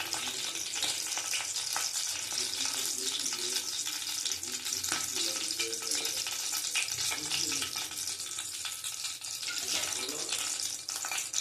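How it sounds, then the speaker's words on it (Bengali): Bay leaves frying in hot oil while cooking mung dal fritters give off a dense, close crackling sizzle that continues steadily with small spits and pops throughout. "দেখো দুটো তেজপাতা দিয়ে দিলাম,"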